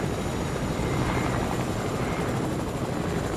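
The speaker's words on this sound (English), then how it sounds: "Yeah, but we got a helicopter." A helicopter in the Fortnite video game roars steadily with a dense rotor and engine drone, loud and constant throughout, with no voices.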